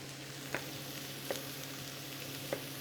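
Lamb and vegetables sizzle in a pan, a steady quiet hiss broken by three faint crackling pops spaced about a second apart.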